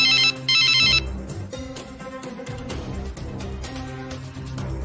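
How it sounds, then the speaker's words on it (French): Telephone ringing after a number is dialed, a bright electronic ring tone in two quick bursts at the start, then gives way to background music. "Il compose le numéro de Kofi,"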